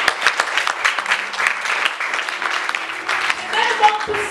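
A church congregation applauding and cheering in praise of the Lord, dense clapping with voices mixed in throughout, steady and fairly loud.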